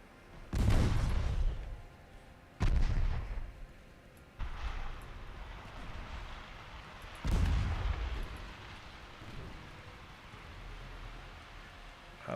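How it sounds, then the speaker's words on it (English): Warship secondary guns firing in Ultimate Admiral Dreadnoughts, a naval battle game: four heavy booming shots spaced a couple of seconds apart, each with a rumbling decay, then a softer distant report near the end. "I would like to continue firing secondaries at you, please."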